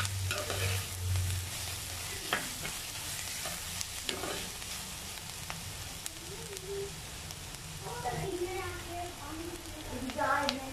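Crushed ginger and garlic sautéing in a pan for a Kerala prawn curry, a steady sizzle broken by scraping stirs and clinks, close up, with a voice talking quietly at times.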